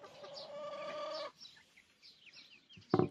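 A month-old chick cheeps and chirps in a poultry pen, a run of high thin calls followed by scattered fainter peeps and a short louder squawk near the end, with no speech.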